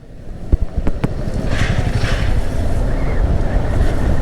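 Electrum H3i electric scooter pulling away from a standstill in sport mode: a few sharp clicks, then a loud wind rush that builds and holds steady as speed rises.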